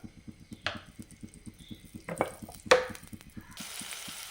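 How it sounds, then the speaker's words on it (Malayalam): Chopped shallots go into hot coconut oil in a pan for a vatta fish curry, with quick rhythmic tapping and scraping, a few sharp crackles, and then a soft steady hiss of frying, with no voices. "ഇനി അതിലേക്ക് കുറച്ച് ചുവന്നുള്ളി അരിഞ്ഞത് ഇട്ട് കൊടുത്തിട്ടുണ്ട് ഇനി അതൊന്ന് മൂത്ത് വരട്ടെ"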